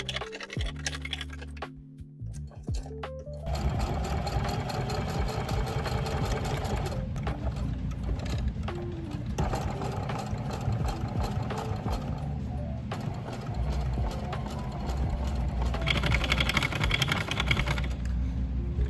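A sewing machine stitching football fabric, running in long steady stretches of fast rattling needle strokes with a whirring motor, close and fairly loud, after a few brief clicks and pauses at the start.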